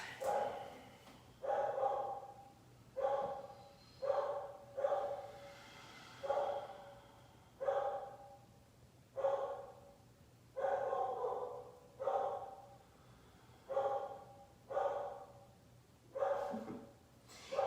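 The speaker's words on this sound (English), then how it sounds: "barking in the background" A dog barks over and over in a steady, evenly spaced rhythm, about a dozen loud barks with short pauses between them, no talking.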